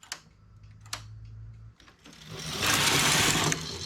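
A knitting machine carriage sweeps across the needles after some alternate needles are lowered, a few light clicks followed by a rising, loud mechanical whirring rush, close up.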